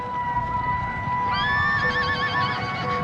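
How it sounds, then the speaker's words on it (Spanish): Horses of the Mameluke cavalry whinny in a shrill, wavering neigh that rises partway through and holds over a steady tonal background, loud and close. "Sus caballos se levantaban, se erguían."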